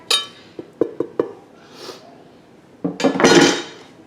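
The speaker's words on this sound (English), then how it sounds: "I got my chicken chopped up, so I'm just gonna add it back into our soup" Tender chopped chicken tipped from a container back into a Ninja Foodi soup pot: several sharp clinks and taps of utensil on pot, then a louder, denser clatter and scrape as the pieces go in.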